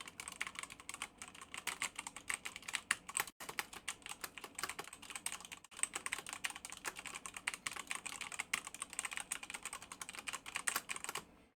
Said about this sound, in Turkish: Şöyle klavyede size göstermek istiyorum tuşlara basarken.